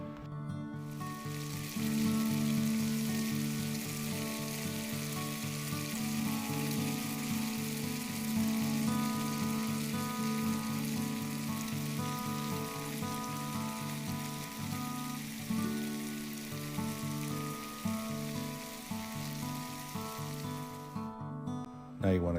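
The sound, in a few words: breakfast sausage browning in pan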